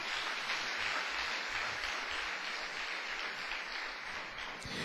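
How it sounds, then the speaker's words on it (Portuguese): Faint, distant applause from a church congregation during a sermon, a continuous even patter of many hands with no voices breaking through. "Quem pode dar uma salva de palmas para o Senhor Jesus?"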